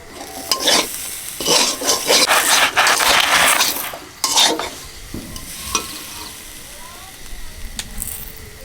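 Grated coconut filling cooks with sugar and cardamom for puli pitha as a spatula stirs and scrapes it hard in a pan, dense scraping bursts with soft frying underneath, then quieter intermittent strokes, loud and close.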